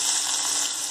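Mustard seeds and onion fry in hot oil, a loud, close, continuous sizzle that lasts only a moment.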